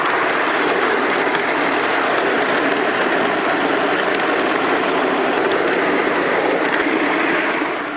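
A miniature steam locomotive runs along a smooth garden railway of steel rail on plastic sleepers over a concrete base, giving a steady, continuous rumble and chuff that stays loud and even throughout with no talking.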